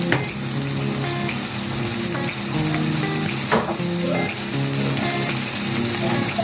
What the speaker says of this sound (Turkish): şimdi kavrulan kıymamın üzerine şöyle birkaç kepçe de domates sosu koyuyorum